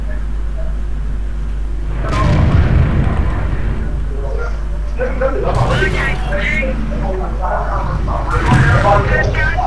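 Tank gunfire in World of Tanks: several heavy booming shots a few seconds apart, each with a crackling tail, heard under someone talking over the game.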